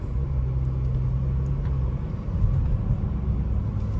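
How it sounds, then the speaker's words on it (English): A low, steady rumble and rough vibration from the front end of a 2010 Mercedes E350 convertible coming to a stop, droning close by with a slight surge partway through, no voices. "It's a rough vibration. You can even hear it in the front."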